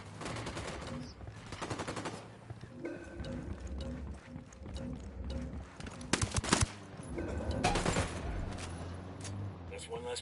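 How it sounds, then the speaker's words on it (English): Gunfire in the video game Ghost Recon Wildlands: repeated shots and bursts through the whole stretch, sometimes loud and sometimes trailing off, over a busy game soundscape with talk at times. "Opening fire."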